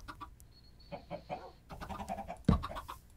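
Chickens clucking in the Minecraft video game, several short scattered clucks and squawks at moderate volume around a coop, with a louder bump near the end and no talk.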